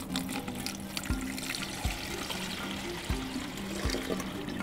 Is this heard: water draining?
yes